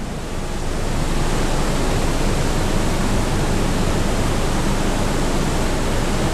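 Water flowing into a hot spring pool, a loud, dense and continuous rushing wash that holds steady with no voices over it.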